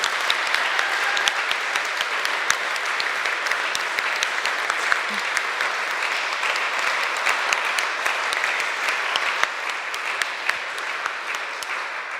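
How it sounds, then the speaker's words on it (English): An audience at a TEDx event claps for the speakers, a long, steady wash of applause with crisp individual claps standing out, even in loudness throughout. "Please, an applause for our speakers."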